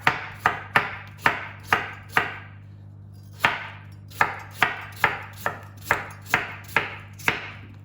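A knife chops through potatoes on a cutting board in crisp, evenly spaced strokes, a run of sharp thuds with a short pause midway, close and clear with no talking.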